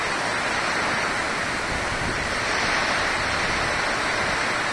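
Intense rain driven by a storm in Brasnorte, Mato Grosso, roars as a dense, steady wash of noise with no voices.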